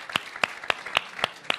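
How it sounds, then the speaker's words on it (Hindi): Audience applause greeting two contestants walking on at a televised Hindi debate contest, heard as a steady run of sharp, evenly spaced claps at moderate loudness with no talk over it. "तालियों के साथ दोनों का स्वागत कीजिए।"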